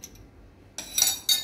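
Concentrated sulfuric acid, 2.5 ml, poured into a glass flask during a potassium iodate titration setup, giving a couple of close, bright glassy clinks and splashy pouring noise after a short quiet start, with no talking.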